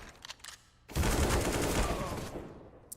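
AK rifle fire in the video game CS:GO, a sudden dense burst of rapid shots that starts after a quiet moment and stays loud for about two seconds before fading.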